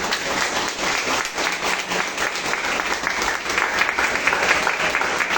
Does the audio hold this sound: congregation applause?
yes